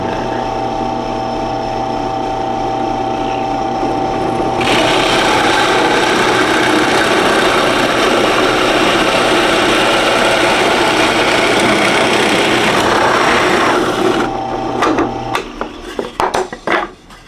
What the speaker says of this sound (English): drill the hole for the 1-inch Forster